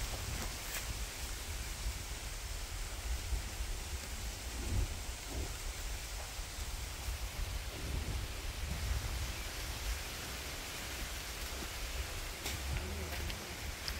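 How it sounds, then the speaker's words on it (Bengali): Steady, dense rain falls outdoors in a village, a constant broadband hiss with scattered drop impacts and low rumbling swells underneath throughout. "বৃষ্টি নেমে গেছে"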